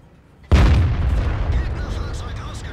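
A single loud, deep boom of a heavy tank gun shot in the video game World of Tanks, followed by a long rumbling decay with faint higher tones fading in the background.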